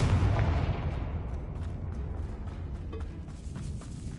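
The Confringo fire spell explodes in Hogwarts Legacy, a heavy booming blast at the start that decays into a long rumbling tail with scattered crackles.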